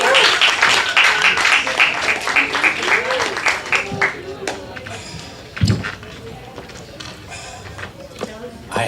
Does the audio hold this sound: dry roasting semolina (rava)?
no